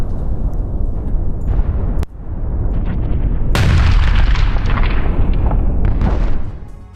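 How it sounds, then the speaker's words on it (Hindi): A sharp blast of a suicide drone in Kharkiv bursts out, followed by a second heavier explosion that roars and rumbles on for several seconds before fading, with no talking. "खार्किव में यूक्रेन के आत्मघाती ड्रोन से धमाका हुआ।"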